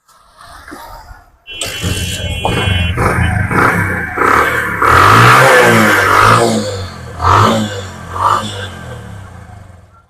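A 2017 Bajaj CT 100 motorcycle starts up close by and idles with a steady thrum, then is revved several times, its engine note rising and falling in loud, repeated surges.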